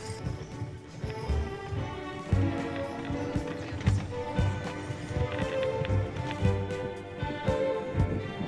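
Horses pulling a sleigh on a winter lake clip-clop steadily, their hooves a rhythmic, fairly close series of thuds over a jingling, bell-like background.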